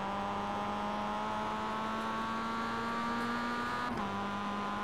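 A Mazda MX-5 race car engine in the iRacing sim at Oulton Park International hums steadily with a strong sustained tone, holding near-constant revs before a brief dip and shift around the fourth second, with no talk.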